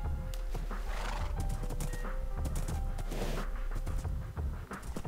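A horse ridden in Minecraft, with rhythmic clip-clop hoof steps and a whinny over a loud, busy game backdrop of rain, continuous and close with no talk.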